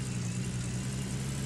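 Car engine idling steadily in the mining game Gold Rush, a low constant hum with no revving, loud and close throughout.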